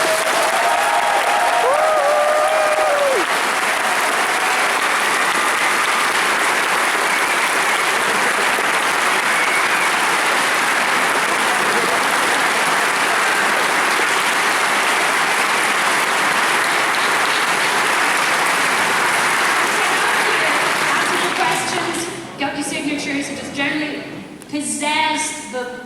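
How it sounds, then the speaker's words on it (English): A convention crowd gives sustained, loud applause for VIPs and special guests, dense clapping holding steady for over twenty seconds before a voice starts talking as it fades. "I want a really big, wonderful applause for our fantastic VIPs and special guests."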